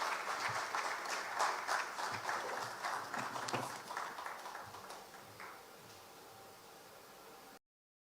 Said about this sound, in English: please help me welcome with a big round of applause, Ms. Akisi Aka.